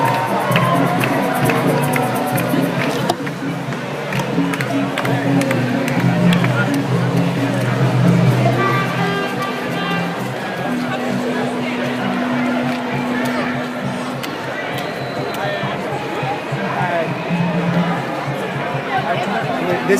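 A huge crowd of young people from New York gathers at the People's Climate March, a steady roar of overlapping chatter, shouts and cheering that holds loud and continuous throughout.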